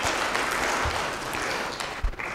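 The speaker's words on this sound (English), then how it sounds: "Let's have a big round of applause to the partners' success." Steady, dense applause from an event audience at a network and data security session, a continuous wash of clapping heard close and fairly loud for a couple of seconds.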